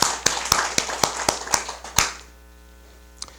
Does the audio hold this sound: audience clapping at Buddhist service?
yes